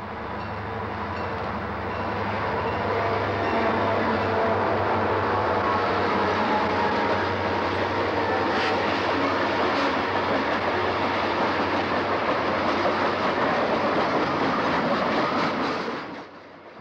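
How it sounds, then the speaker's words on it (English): A train on the former Reading tracks, led by an ex-Reading diesel locomotive patched with Conrail marks and trailed by a blue Conrail SD35, rumbles past close and loud with steady wheel clatter and engine drone, fading at the end. "here we see a former Reading diesel already paint-patched with CR marks, leading a blue Conrail SD35 on the old Reading tracks"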